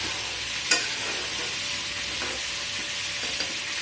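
Spice masala being fried and stirred in a pan before fish roe goes in, a dense steady sizzle close up with a sharp utensil click early and faint scraping strokes after, no speech.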